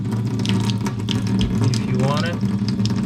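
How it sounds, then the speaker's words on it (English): Tap water flushes through a newly installed BG3000C water filter in a steady, continuous rushing stream, close and loud, with a faint gurgle midway and no talking. "you want to let the water flush for about 5 minutes"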